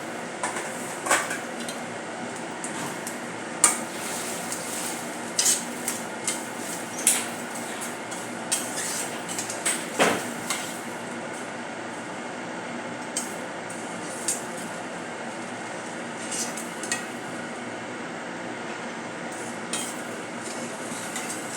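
A spoon stirs jaggery and sugar as they melt into a one-thread syrup in a pan, with steady scraping and frequent light metallic clinks against the pan, close and moderately loud, with no talk.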